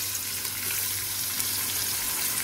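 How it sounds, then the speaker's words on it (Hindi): Onions and whole spices frying in hot oil over a low to medium flame, a constant close hiss and sizzle with no pauses and no voices. "अब मैं इसमें प्याज डालूंगी।"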